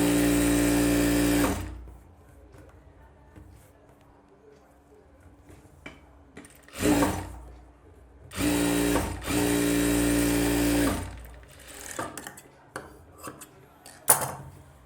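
Sewing machine stitching a blouse lining in a tailoring lesson, running in three loud bursts of a few seconds each separated by quieter gaps with faint handling sounds and a sharp knock near the end.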